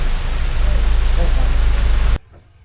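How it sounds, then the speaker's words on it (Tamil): Heavy monsoon rain in Kerala pours steadily, a loud dense hiss with a low rumble, cutting off abruptly near the end into near silence. "மழை."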